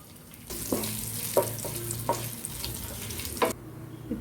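Cumin seeds and ginger pieces crackle in a spoonful of ghee with a little oil, a close sizzle that starts suddenly and runs steadily, broken by a few sharp spoon clinks, then cuts off.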